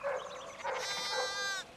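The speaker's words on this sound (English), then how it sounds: "One of the fence rails fell and the sheep started hopping it." Sheep bleating in the medieval game Pentiment: a single bleat with a harmonic, wavering tone follows a brief higher call, clear and close.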